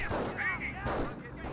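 Pak 38 anti-tank gun firing in Company of Heroes, heavy booming shots with rumbling tails amid other battle noise.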